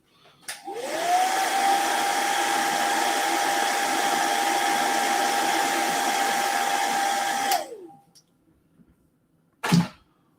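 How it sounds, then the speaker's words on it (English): A hair dryer used while painting a miniature figure whirs up, holds a loud steady blowing drone with a high whine for about seven seconds, then winds down, followed by a sharp knock. "excuse me while I use my hairdryer for a second"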